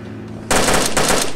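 Video game gunfire: a loud, close burst of rapid automatic rifle shots, a tight rattling stream of cracks, alone with no talk.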